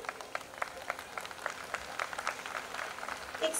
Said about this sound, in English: Applause for them, parents.